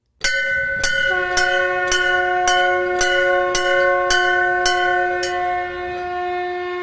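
Metal bells at a Kshetrapal temple on the Tungnath and Chandrashila trek ring in a steady series of about nine evenly spaced strikes, each leaving a long, shimmering resonance that overlaps the next, close and clear with no talk.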